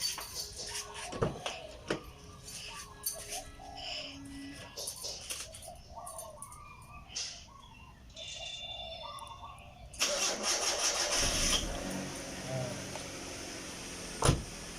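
A vehicle engine is cranked and catches in an outdoor setting during a basic car check, the start bursting in loudly partway through and settling into a steady running roar, with birds cooing and faint voices earlier.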